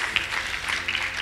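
Short burst of audience clapping at a church testimony gathering, steady and moderately loud, filling the room evenly without a clear beginning or end.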